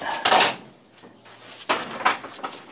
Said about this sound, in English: Shall try open the garage door, that might give me some light.